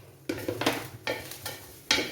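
Dry spice mix for neem-leaf (veppilakatti) pickle, with dried chillies and curry leaves, being roasted and stirred in a pan: repeated scraping stirs with a soft sizzle, close by and fairly quiet, with no talk.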